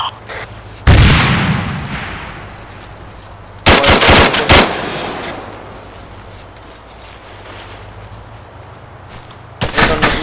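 Gunfire and machine gun bursts ring out in the combat video game Arma 3 in an Afghan village, with loud single shots and rapid clusters of fire separated by quieter ambient stretches, no talking.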